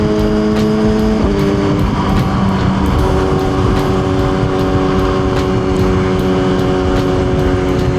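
A motorcycle is ridden on the road to warm up its tires, its engine droning loudly and steadily close by, with the pitch shifting as revs change early on.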